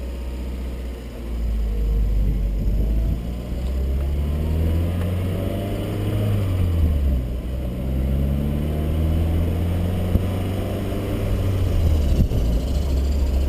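Toyota MR-2 ZZW30 convertible engine running steadily up close with a deep low rumble, rising and falling in pitch as the car pulls away and drives through the gears, loud and continuous with no talk.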